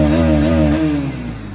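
Bajaj Pulsar NS 160 motorcycle engine held at high revs with a strong harmonic whine that wavers, then drops as the RPM falls away, loud and close.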